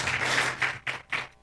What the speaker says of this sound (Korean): 박수로 환영해 주시다